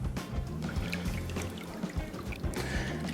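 Ice-cold water pours steadily into a container to make a brine for curing bacon, a continuous trickling, splashing flow heard close and fairly quiet, with no talking.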